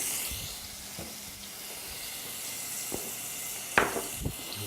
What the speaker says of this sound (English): We're going to add our garlic, our chili powder, the cumin and cinnamon.